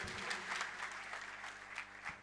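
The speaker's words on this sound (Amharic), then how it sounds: "ለጌታ አጨብጭቡ እስቲ" A church congregation applauds in steady, dense clapping that holds at an even level throughout.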